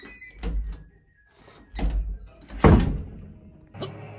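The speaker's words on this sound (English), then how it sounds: "Did the door just close?" An indoor door shuts with a firm thunk at close range, landing among a few other soft knocks and bumps in a quiet room.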